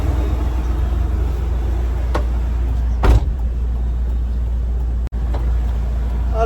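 A freshly washed Toyota Qualis, about twenty years old, drives slowly toward a parking spot with a steady low engine hum. A short knock or thump sounds midway through.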